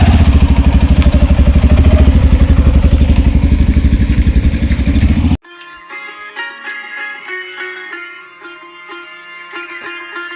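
A motorcycle engine runs loud and close with a rapid, steady pulsing beat for about five seconds, then cuts off abruptly into quieter clattering and tonal sounds.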